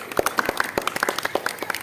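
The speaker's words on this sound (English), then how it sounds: "Please have a big round of applause" Scattered hand claps from a small audience at a school Independence Day program, fairly faint and uneven, with individual claps standing out rather than a full roar.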